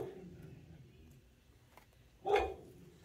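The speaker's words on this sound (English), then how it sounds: "My dog Maverick barking." A single dog barks once, a short sharp woof that stands out over a quiet room background.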